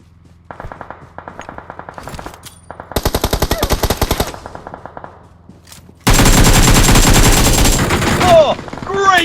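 Video game gunfire rattles in rapid automatic bursts, with loud machine-gun volleys broken by short pauses and ending in a dense, sustained barrage during a blizzard mission.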